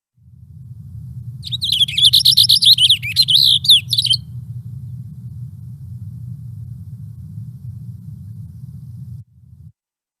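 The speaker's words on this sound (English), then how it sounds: "Here's the Cassin's finch." A Cassin's finch delivers a short, rapid warbled song of tumbling high notes lasting about three seconds, close and clear over a constant low rumble that continues after the singing stops.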